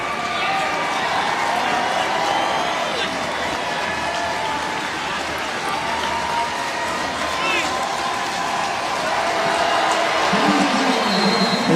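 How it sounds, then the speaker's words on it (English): A large crowd at the 2019 ACC men's lacrosse championship, Notre Dame vs Virginia, roars and cheers continuously, a dense wash of voices and shouts holding steady throughout with a swell near the end. "Listen to this crowd."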